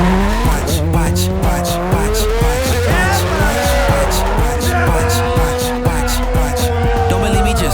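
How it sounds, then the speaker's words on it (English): A Huckster car drifts, its tires squealing in long, wavering whines over a revving engine that rises and falls, loud and close throughout. "I cannot wait to get out there and drift her around"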